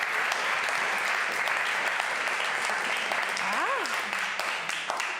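Sustained audience applause for award winners at a marketing awards event, a steady wash of clapping with a brief whoop or whistle partway through and voices talking over it.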